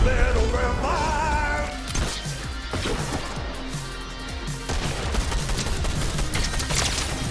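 Gunfire in a Fortnite-style battle royale video game, with rapid bursts of loud, close shots and crashing impacts blending together across the clip, with no talking.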